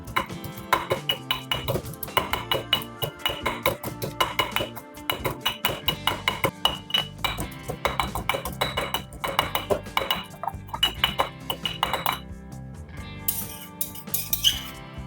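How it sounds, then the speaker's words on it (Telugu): Cooked gongura (sorrel leaves) is mashed in a cooking vessel for a king fish head curry, with a steady run of rhythmic metallic clinks and scrapes close up that break off near the end into a few scattered taps. "ఈ మగ్గబెట్టిన గోంగూరను జస్ట్ ఊరికే ఇంత అనమాట దాంట్లోకి వేసి జస్ట్ అట్లా నలగొట్టి వేస్తున్నాను"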